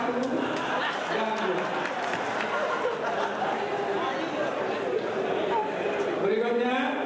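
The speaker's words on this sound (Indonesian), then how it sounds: "tepuk tangan untuk paslon 1 dan" An audience at a regency head candidate debate in Aceh Selatan applauds the candidates, a dense, continuous patter blended with crowd chatter and talking throughout.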